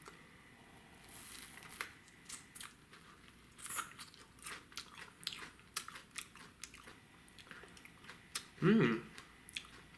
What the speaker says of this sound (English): Trying our first tomatillo ever.